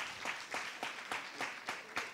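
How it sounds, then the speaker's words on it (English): A conference audience applauds a company introduction at a business celebration event, steady broadband clapping with regular louder swells, fairly faint and distant throughout. "Please, a round of applause for iQIYI."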